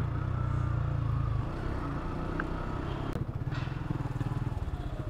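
A motorcycle engine idles steadily after repair, its low rumble close and continuous, with a brief clatter near the middle and a slightly rougher pulsing beat toward the end.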